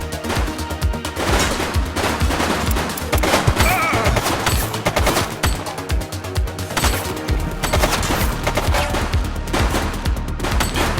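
Gunfire from a shooting suspect in the police game The Precinct, rapid sharp shots cracking in quick irregular bursts, loud and close, sustained over several seconds with brief gaps.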